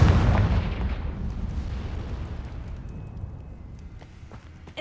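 A Confringo spell blast in the Hogwarts Legacy video game, one heavy explosive boom that hits loud at the start and then rumbles and fades over several seconds.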